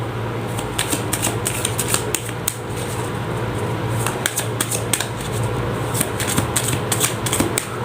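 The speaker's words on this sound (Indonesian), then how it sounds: "Saya shuffle terlebih dahulu." Tarot cards being shuffled by hand, a steady stream of crisp riffling and flicking bursts repeating close up over a low constant hum, with no talking.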